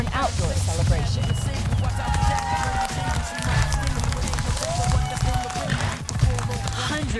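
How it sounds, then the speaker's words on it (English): Hundreds of mourners at an outdoor memorial in East Harlem clapping and cheering, a steady dense crowd noise with scattered shouts and voices mixed in. "Hundreds of mourners clap, cheer,"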